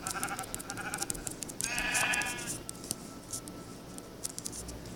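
A sheep in a survival video game lets out a single short bleat midway through, over a soft, busy background of game sounds and clicks.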